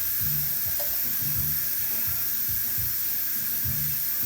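Steam hisses out of an Instant Pot pressure cooker vent after cooking red rice and beans, a loud, constant high-pitched rush with soft rhythmic thumps underneath and no speech.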